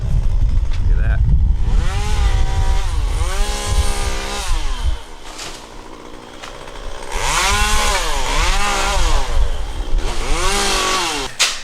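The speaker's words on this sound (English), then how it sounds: "some tree trimming going on over there" A chainsaw trims trees nearby, its engine repeatedly revving up and dropping back in loud, whining bursts separated by short idling pauses, with a voice partly heard alongside.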